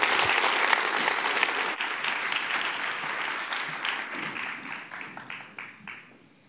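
An audience at a public art presentation evening gives a round of applause for the artists, a dense burst of clapping that thins out and fades to a few scattered claps.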